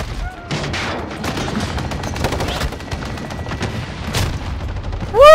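Rapid pistol gunfire from a Deagle match in a video game, dense bursts of shots crackling nearly continuously, with a few sharper cracks standing out and a louder blast at the end.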